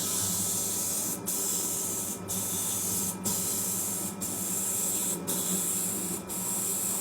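A spray gun laying down a high-build coat at just under 2 bar over a surface keyed with 240 grit, a close, steady hiss broken by short regular gaps as each pass ends, roughly once per second.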